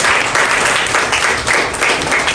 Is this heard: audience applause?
yes